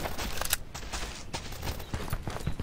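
Gunfire in the multiplayer game Dead Side, a rapid series of sharp shots and bursts at middle distance, some clustered and some spaced out, with no speech over them.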